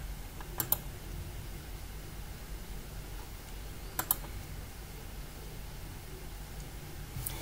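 Soft keystrokes on a computer keyboard while a Groovy script is written, a quiet, sparse patter of clicks with a couple of sharper taps, heard alone with no talk.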